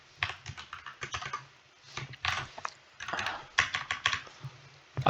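Fingers type code on a computer keyboard in quick, uneven clusters of close key clicks, with short pauses between bursts and no voices.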